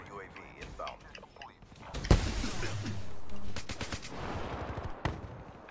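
Bursts of automatic gunfire in a Call of Duty match, loud and fairly close, rattling in rapid volleys with a sharp crack near the middle, mixed with game noise and muffled voices.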